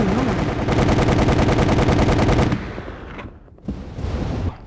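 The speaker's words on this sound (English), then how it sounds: "Alright, let's test the submachine gun out." Rapid submachine gun fire from the video game Resident Evil: The Umbrella Chronicles, a loud continuous burst lasting a couple of seconds, then a quieter stretch of game sounds.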